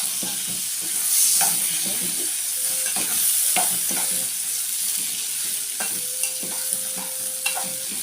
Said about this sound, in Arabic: الرز لما تقلبيه كده